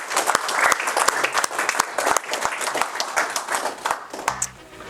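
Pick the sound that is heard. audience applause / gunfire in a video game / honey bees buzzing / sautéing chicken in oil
audience applause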